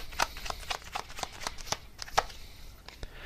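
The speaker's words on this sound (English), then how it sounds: "let me just get one more card here for any extra info." Soft cards slide and snap apart as a tarot deck is handled during a reading, giving a string of brief papery flicks at a quick irregular pace, fairly close and alone with no voices.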